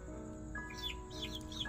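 An electronic owl call from a toy farm animal sound board, a short faint chirpy tone over a steady low hum, with no talking.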